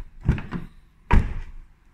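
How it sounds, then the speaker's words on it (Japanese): A car's rear tailgate being opened from outside, heard as a pair of close latch clicks and thunks followed a moment later by a heavier single thunk, with nothing else around it. "バックドア、今は普通に開きます。"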